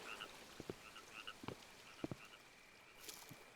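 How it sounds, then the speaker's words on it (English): Ambient frog croaks from the video game Maquette sound in scattered short bursts, a few overlapping calls at moderate distance over a quiet background with no talking. "That was a bunch of frogs now."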